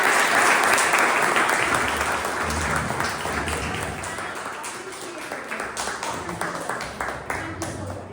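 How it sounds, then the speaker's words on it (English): A live audience at a Toastmasters club meeting applauds loudly and steadily for about eight seconds, a dense wash of clapping that tapers slightly toward the end, with a voice faintly heard beneath. "A big round of applause"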